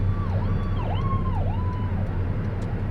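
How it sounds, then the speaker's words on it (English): An ambulance siren wails steadily in repeated rising and falling sweeps, moderately distant under a constant low rumble of background noise, with no talking. "Oh, there's an ambulance coming."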